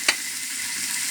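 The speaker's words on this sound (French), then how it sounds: "Donc je vais tout mettre dans ma petite sauteuse." Mushrooms and asparagus sizzle in a small sauté pan as a steady, close hiss, with one brief clink near the start.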